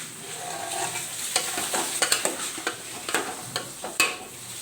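Chicken biryani gets stirred in a frying pot, a spoon scraping and clacking in irregular strokes over a soft, steady sizzle, close up with no voices.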